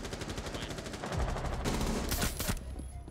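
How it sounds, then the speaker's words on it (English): Rapid automatic gunfire in the Rainbow Six Siege shooter game, loud, dense bursts of shots that intensify near the end, with no talking. "Womack, can you shoot at him, please?"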